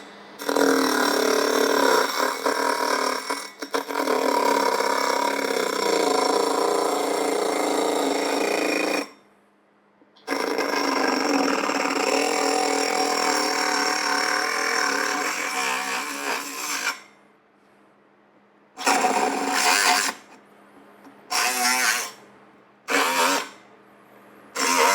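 A Ryobi 18V brushless compact cut-off tool cutting a circle in sheetrock, a loud close-up grinding whine that runs continuously for long stretches, cuts out briefly, then returns in several short bursts toward the end.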